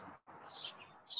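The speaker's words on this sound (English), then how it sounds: "Are these my birds or somebody else's birds?" Pet birds chirp in short, high tweets over a soft, steady background, the bright calls coming in a few quick bursts, with the loudest one at the end.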